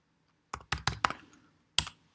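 Five crisp clicks on a computer keyboard as a short command is typed, a quick cluster of four keystrokes followed by one separate press, close and clear in a quiet room with no speech.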